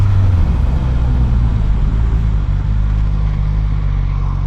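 Suzuki GSX-S 1000 motorcycle accelerating through quick-shifted gears: a deep, loud, continuous engine drone with a brief dip around a shift, heard close up from the rider's position over wind noise.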